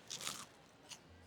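A faint, crisp crunch comes from biting into a sweet, spicy chai-flavored churro at Tokyo DisneySea: a short crackling bite followed by a smaller second crunch, quiet and close with no talking.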